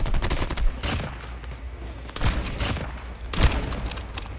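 Shotgun blasts in a first-person shooter video game, several loud booming shots spaced irregularly over a busy background of game noise, no one speaking.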